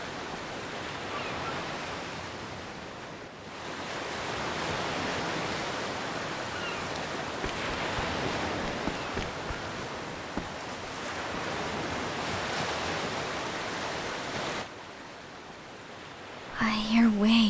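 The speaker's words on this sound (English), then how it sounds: "I hear waves." Ocean waves in the video game Octopath Traveler II wash in as a steady, full-band surf roar that runs continuously, dipping briefly near the start and ending with a short musical chime.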